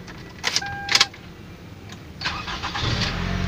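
A Toyota Camry engine starting with a newly programmed chip key: two brief cranking bursts, then the engine catching and settling into a steady, close idle with no talk.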